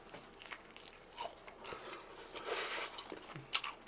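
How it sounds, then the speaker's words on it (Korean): Spicy yangnyeom fried chicken is bitten and chewed close up, with soft scattered crunches and moist chewing sounds, faint and irregular, with no talking. "매운 양념치킨 한번 먹어보겠습니다."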